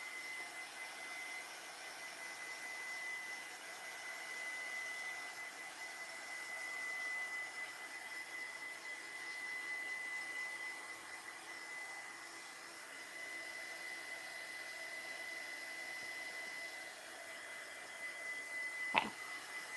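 Hair dryer blowing steadily over a DIY family keepsake, a continuous airy whoosh at moderate level for the whole stretch, with a brief clack near the end.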